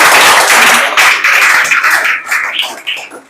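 Audience clapping and applauding for a child's correct quiz answer at a children's general-knowledge quiz, a dense, steady burst of many hands close by that thins out toward the end.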